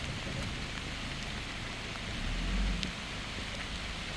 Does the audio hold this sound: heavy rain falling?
yes